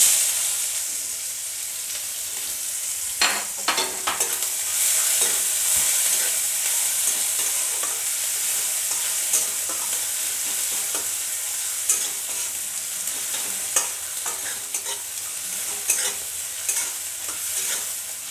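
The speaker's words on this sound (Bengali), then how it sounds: "পেঁয়াজটা আমার খানিকটা ভাজা হয়ে গেছে" Onion sizzles in hot oil in a pan with cardamom, cloves and cinnamon, a steady close frying hiss broken by occasional scraping stirs and soft clicks, with no voices.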